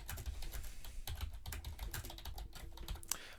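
Steady typing on a computer keyboard, a fast run of light clicking keystrokes heard close up with no talking.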